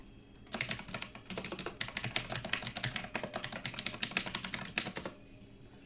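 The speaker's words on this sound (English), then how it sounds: "I keep typing the wrong password." Someone types quickly on a computer keyboard, entering a password during a livestream. The keys click in close, crisp, rapid bursts for about five seconds, then stop, with no talking over them.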